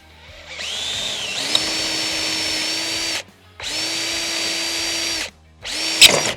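A power drill whirs up to speed in two sustained bursts with a short pause between, then starts again, close and loud, during caravan awning replacement.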